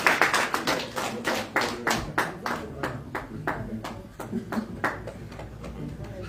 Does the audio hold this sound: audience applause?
yes